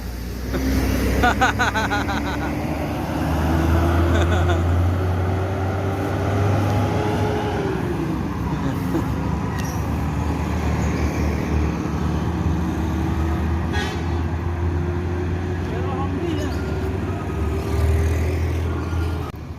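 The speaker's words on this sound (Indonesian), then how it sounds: "Ini saatnya bus akan berangkat menuju Jabodetabek" A large bus engine idles and revs steadily with a deep rumble, sustained throughout at close range, with a few faint clanks.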